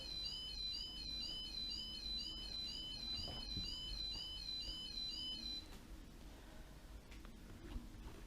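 A Faller model railway level crossing gives an electronic warning sound, a repeating high pulsing tone for about five seconds that then stops, quiet against a low background hum.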